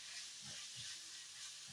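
Chayote sizzles in a pot with meat, garlic and ginger, giving a soft continuous frying hiss with a few low stirring bumps, fairly quiet and without talk.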